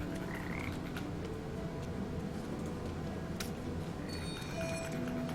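Frogs croak steadily in a dense chorus with the Papo & Yo video game on PC, set over a constant ambient bed at moderate level with occasional higher tonal chirps. No speech.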